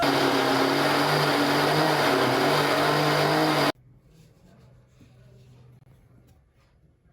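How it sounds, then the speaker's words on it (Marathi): A mixer grinder whirs loudly and steadily while grinding peanuts, jaggery and cardamom, then cuts off abruptly midway, leaving faint clatter and near silence. "तर आता आपण हे मिक्सरला पुन्हा एकदा फिरवून घेऊयात"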